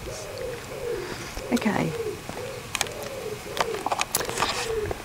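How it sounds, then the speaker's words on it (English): Birds, including pigeons or doves, call with soft repeated coos and sharper chirps in a quiet seaside town, heard at moderate distance while a person speaks briefly and footsteps or movement sound nearby. "Can you hear the birds?"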